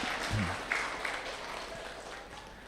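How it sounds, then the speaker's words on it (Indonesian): Audience applause at a spiritual lecture, a brief spread of clapping from a crowd that fades into a soft room murmur. "Udah tepuk tangan lagi deh, tepuk tangan."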